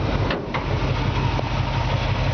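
The engine of a 1972 Jeep CJ5 with long-tube headers runs steadily at idle, a constant low rumble with no talking.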